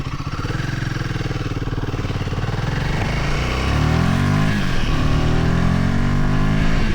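A Royal Enfield Himalayan 450 motorcycle engine revs up and down through the gears, pitch climbing and dropping between shifts, loud and close with no talking.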